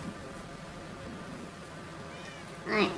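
A pet cat lets out a short, clear meow near the end, preceded by a faint higher mew in a quiet indoor room with low background noise.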